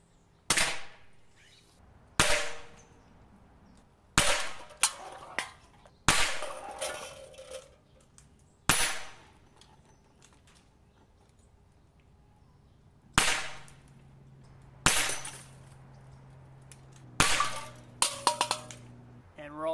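Umarex Iconix PCP air rifle firing eight sharp, loud shots at irregular intervals, each a crisp crack with a quick ringing decay, separated by quiet pauses with faint low background hum.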